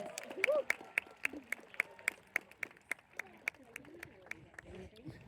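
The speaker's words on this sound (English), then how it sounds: "Another round of applause for him." Scattered applause from a falconry show audience for the falcon Titus, a modest run of separate claps at moderate distance with voices and outdoor chatter mixed in.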